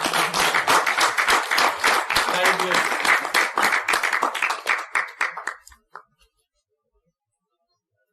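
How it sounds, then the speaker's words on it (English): An audience at a Toastmasters debate meeting gives a lively round of applause, sharp hand claps that start dense and loud, then thin out into scattered claps and die away into silence; a voice briefly speaks during the clapping. "Please give a big round of applause to Toastmaster Umar Javed."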